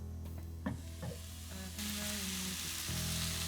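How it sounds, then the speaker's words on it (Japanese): Cabbage steam-frying in a covered pan: steady close sizzling and crackling throughout, growing slightly louder partway through, with no talking. "キャベツは火が通りにくいので、このまま蓋をして少し蒸し焼きにしていきます。"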